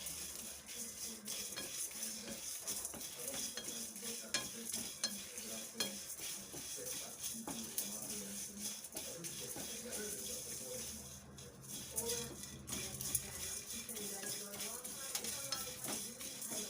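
Coriander seeds dry-roast in a pan under continuous stirring: a busy rattle and scrape of a spoon against metal with light crackling, close and moderately quiet throughout.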